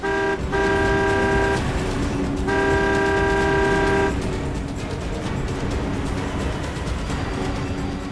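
A car presses through a chase to overtake another vehicle, its steady road and engine roar overlaid by two long, loud horn blasts near the start before the rumble continues alone.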